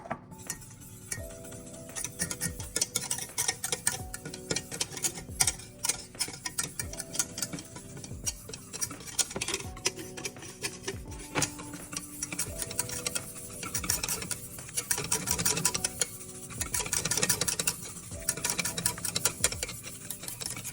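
A whisk clatters steadily against a bowl while cocoa powder is mixed into melted butter for a chocolate glaze, a continuous fast rhythmic scraping and ticking, close and alone.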